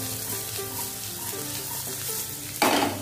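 Spiny gourd (kantola) stir-fried in oil, a steady close sizzle with soft tonal clinks, ending in a louder burst of crackling as the pieces are tossed.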